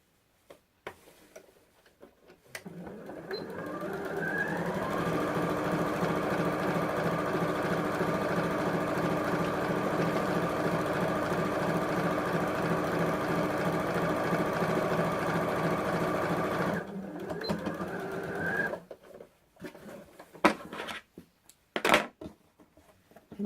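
A sewing machine stitches around the curved seam of a lined purse. Close, rapid, even ticking runs steadily for about fifteen seconds, framed by quiet handling noises before and after.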